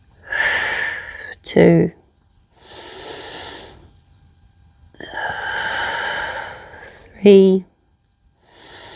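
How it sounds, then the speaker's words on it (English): Deep yoga-style breathing during a calisthenics session: three long, airy inhale-and-exhale rushes, each followed by a short voiced count, close to the microphone. "So inhale deeply. Exhale fully."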